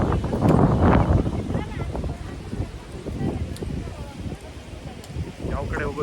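Wind gusts across the high hills around Trimbakeshwar in Maharashtra, buffeting the microphone with a steady low rumble that swells and eases throughout.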